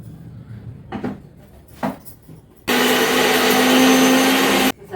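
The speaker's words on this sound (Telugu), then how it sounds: "ఇప్పుడు మనం మిక్సీ జారు శుభ్రంగా చుట్టేసుకుని చల్లేకుండా ఇది వేసేసి మిక్సీ పెట్టేద్దాం" A kitchen mixer grinder blends ginger chutney with a loud, steady whirring roar that runs for about two seconds, following a few soft knocks and handling sounds at the start.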